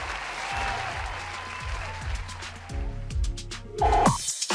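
Studio audience applause rises and rolls on in a TV studio setting, steady clapping over a rhythmic music bed, swelling louder near the end.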